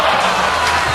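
A crowd at an X Games skateboarding contest in Los Angeles cheers loudly, a dense, continuous roar of voices and whoops filling the arena for a brief burst.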